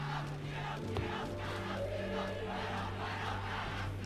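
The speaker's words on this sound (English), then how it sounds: "Man, the crowd's getting into it." A crowd roars and chants in rhythmic waves at a high school volleyball match in the anime Haikyuu, steady and dense, with a low tonal hum beneath and no clear speech.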